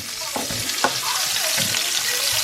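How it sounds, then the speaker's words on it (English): Onions frying in hot oil with cumin seeds, a continuous close sizzle with a few soft stirring knocks, no voices. "Cook the onions like that."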